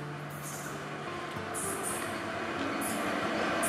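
The Teesta-Torsa train arrives at a station at night, with a steady low rumble of rail cars that grows slightly louder and a few brief high squeals or hisses over a continuous mechanical drone.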